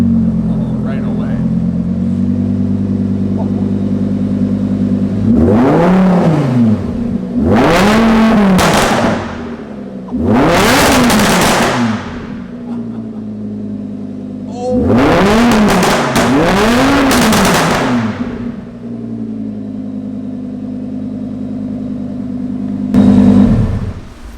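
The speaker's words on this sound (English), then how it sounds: "we got a brand new VF Engineering exhaust put on and some new software to go with it" Lamborghini with a supercharger, new VF Engineering exhaust and new software, idling with a steady rumble and then revved hard in repeated bursts that rise and fall, four clusters of loud roaring blips before settling back to idle.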